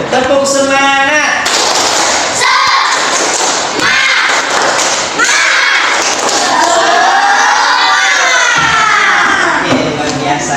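Classroom of children doing the rhythmic 'tepuk semangat' clapping chant with their teacher, loud patterned claps and thuds mixed with shouted chanting voices, close and energetic from start to finish.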